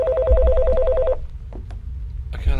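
A telephone rings in a horror video game, a steady warbling electronic ring pulsing for about a second before cutting off, followed by faint clicks and a short burst of noise.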